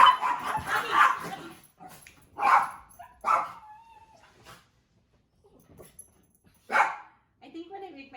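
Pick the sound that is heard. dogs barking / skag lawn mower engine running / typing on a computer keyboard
dogs barking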